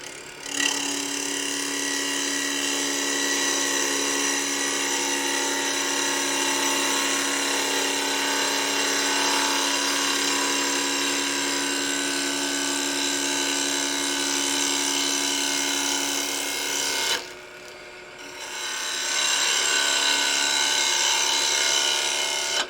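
A wood lathe spins a spalted candlestick blank at about 1100 RPM, giving a steady whirring drone with a constant tone that runs unbroken for most of the stretch, dips briefly near the end, then resumes.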